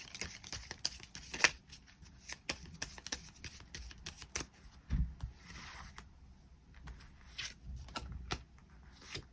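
Tarot cards being shuffled and drawn, with irregular soft slaps, flicks and rustles close by, quiet with brief louder snaps and no talk.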